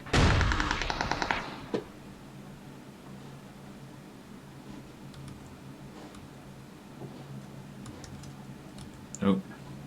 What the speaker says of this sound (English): Who are they firing at?